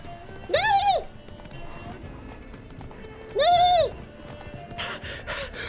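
Roach, the horse in The Witcher 3 video game, snorts and whinnies in two short loud bursts over a muted game soundscape, with a faint breathy sound near the end and no clear hoofbeats.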